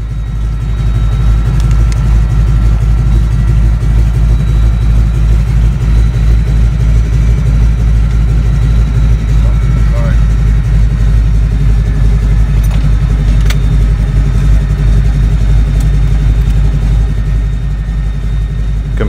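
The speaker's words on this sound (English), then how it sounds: "Listen as the 1340 idles." A 1340 radial engine idles steadily on an Amphibian Grand Caravan float plane, a loud continuous low rumble with an even throbbing pulse that holds up close throughout, with no voices.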